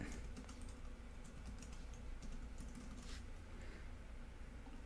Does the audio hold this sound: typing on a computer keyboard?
yes